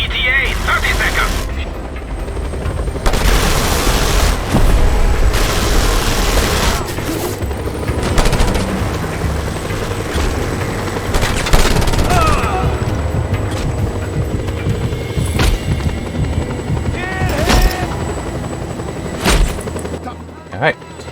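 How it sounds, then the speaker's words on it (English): Helicopters circle and fire weapons in the video game Just Cause 2, with rotor drone under bursts of gunfire and machine-gun fusillades, loud and busy throughout, someone talking over the action. "the helicopters that are flying around and shooting at me"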